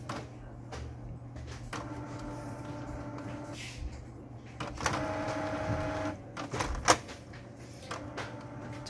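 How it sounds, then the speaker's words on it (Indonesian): A Canon inkjet printer with a PG810/CL811-type cartridge runs a test print, whirring and humming at moderate distance with a steady tonal drive, a louder carriage pass midway and a few sharp clicks and clunks. "sekarang kita coba tes print ya"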